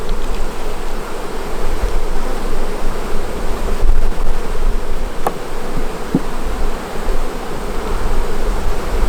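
Honey bees from a new swarm buzz loudly and continuously around an opened hive, a dense, steady drone close by with no voices.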